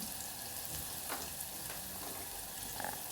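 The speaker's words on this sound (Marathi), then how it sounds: "बघा इथे कांदा टमाटे व्यवस्थित मिक्स झालेत तेलसुद्धा मस्त सुटलं आहे" Onion and tomato masala frying in oil with spices, a continuous dense sizzle with faint stirring scrapes, steady and close, no speech.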